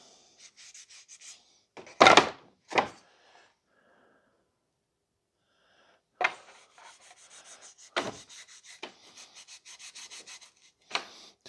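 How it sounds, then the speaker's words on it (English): Fine-grit sandpaper, around 320 to 400, rubs over a shellac-finished wood sample in soft scratchy strokes, a few louder swipes among quieter rhythmic rubbing and pauses, close and alone. "I'll actually sand it with, I might start with a 320. I go to a 400 grit, sand that nice"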